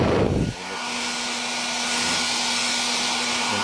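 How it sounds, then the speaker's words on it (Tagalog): A hot air blower roars steadily at medium setting while drying the wet circuit board of an Astron automatic washing machine with an E8 error, a loud close whoosh with a faint hum and a brief dip near the start. "pag nag-blower kayo ng mga ganyang critical na board, medyo layuan lang, saka medium lang ang setting ng blower niya"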